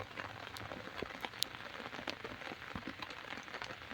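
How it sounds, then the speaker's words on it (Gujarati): Light drizzle pattering on farmland cotton fields, a soft continuous hiss dotted with scattered sharp drop taps. "એકદમ ધીમીધારે વરસાદ ચાલુ"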